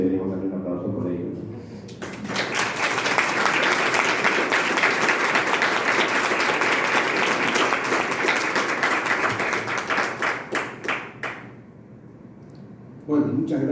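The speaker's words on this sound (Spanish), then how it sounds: "Yo creo que deberíamos darle un aplauso por ello." Audience at a book presentation breaks into a long, steady round of applause lasting about ten seconds, then thins into scattered claps, with a voice speaking before and after.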